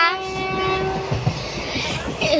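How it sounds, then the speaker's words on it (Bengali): A passenger train on the Kanyakumari to Rameshwaram line pulling into a station, with a sustained horn tone at the start over rumbling wheels and rolling carriage noise, fairly loud and close. "আমাদের ট্রেন একটা স্টেশন এসে দাঁড়িয়েছে"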